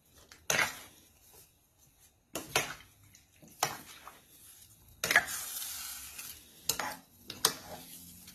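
Shrimp simmering in coconut milk for ginataang hipon, stirred in a pot with repeated sharp scrapes and clinks of a utensil against the metal, spaced irregularly over a soft bubbling sizzle.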